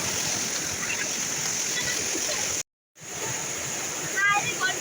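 A river flowing outdoors during fish and frog hunting: a steady broadband rush of water throughout, broken by a brief dropout, with voices faintly mixed in.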